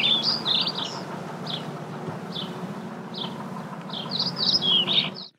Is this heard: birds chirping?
yes